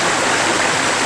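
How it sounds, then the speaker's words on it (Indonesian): A river, the Masakal, flowing steadily as a dense, unbroken rush of stream water close to the microphone, with no voices over it. "Air sungai di sini Masakal."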